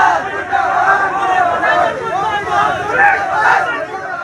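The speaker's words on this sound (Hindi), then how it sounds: "बाहर प्रदर्शन किया और मुर्दाबाद के नारे लगाए।" ABVP student protesters crowd outside a residence shouting 'murdabad' slogans, a loud, close chorus of rhythmic chanting voices rising and falling together.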